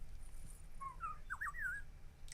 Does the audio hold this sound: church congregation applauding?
no